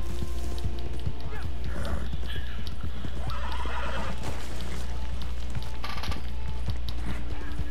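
A horse whinnies and its hooves clop rapidly at close range, with rhythmic hoofbeats under a loud, steady background and occasional mechanical clicks.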